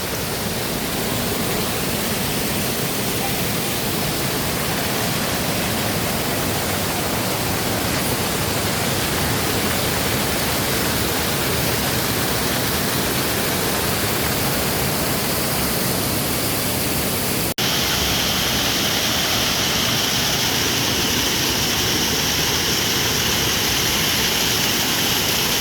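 Waterfall at Mimbalot Falls in Buruon, Iligan City: an unbroken, dense roar of falling water, loud and steady throughout, with a slight shift in tone late on and no voices.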